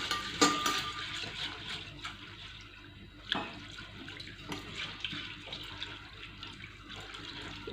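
Water sloshing and splashing in a bowl as flattened rice is swirled and rinsed, with a few sharper splashes and clinks, fairly quiet and close.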